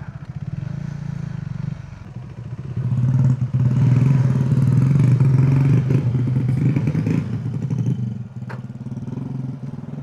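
A mid-sized motorcycle idles and revs at a gas station in Marawi City, a steady close engine rumble that swells louder mid-way, with some clatter and scraping.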